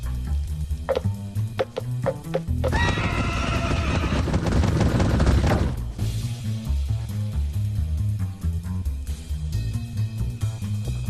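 A Minecraft Bedrock Edition demon horse from a Nether monster-hunter map lets out a loud, rough neigh lasting about three seconds, set against steady game music.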